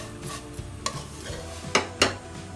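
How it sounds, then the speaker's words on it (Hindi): Vermicelli roasting in ghee in a pan, stirred with a spoon, giving sharp scraping clinks against the metal over a faint steady sizzle, close and clear, no voices. "अब ये सेवैयाँ थोड़ी थोड़ी भुन गई हैं।"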